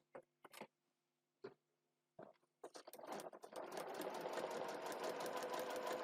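A hand crank sewing machine makes a few separate clicks, then settles into a rapid, steady run of close mechanical stitching that grows louder and more continuous.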